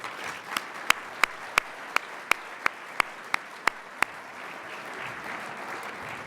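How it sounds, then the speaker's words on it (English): Sharp, evenly spaced claps ring out about three times a second over a low room hiss at an evening celebration event, then stop after roughly four seconds, leaving only faint background murmur. "Let's give them a round of applause for their outstanding efforts and contributions."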